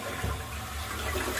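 Toilet flush sound effect, a loud continuous gush and swirl of rushing water that is close and sustained throughout, with no speech over it.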